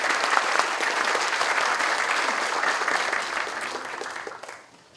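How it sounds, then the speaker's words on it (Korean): A school anniversary ceremony audience applauds award winners for long service, education, merit and research funds, a dense, steady wash of many hands clapping that fades out near the end. "수상하신 분들께 다시 한번 축하의 박수를 부탁드립니다."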